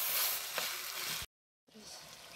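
Half a kilo of ground beef frying in a pan, a bright steady sizzle that cuts out briefly and then resumes, close and moderately loud.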